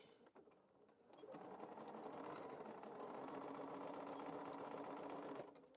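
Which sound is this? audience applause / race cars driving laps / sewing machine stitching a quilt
sewing machine stitching a quilt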